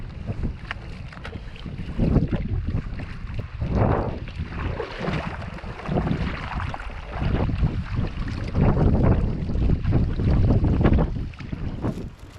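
Strong, gusty wind buffets a canoeist paddling on a boreal lake in Saskatchewan. Rumbling wind noise rises and falls throughout, with rough water sounds close to the microphone and no talking.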